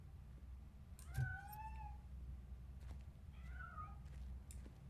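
A cat meows twice in the video game RoboCop: Rogue City, thin and drawn-out, over a steady low hum, fairly faint with quiet clicks in between.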